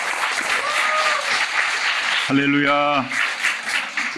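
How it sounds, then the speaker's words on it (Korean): A church congregation applauds in a dense, sustained wash of clapping, while a voice calls out a short exclamation partway through. "このような意味で感謝の心を込めて拍手をしたいと思います。"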